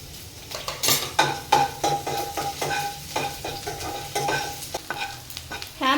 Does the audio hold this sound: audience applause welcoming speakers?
no